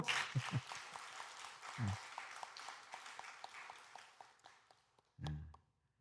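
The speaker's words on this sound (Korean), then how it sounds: "우리 그냥 지나가지 말고 우리 박수 한번 할까요?" Dense crowd applause during a church service fills the space, fading out toward the end, followed by a short burst of speech.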